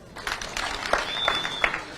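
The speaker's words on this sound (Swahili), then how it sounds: "Makofi kwa watu." A crowd at a political rally in Kakamega County claps and applauds, a moderately loud, continuous patter of hands with scattered voices mixed in.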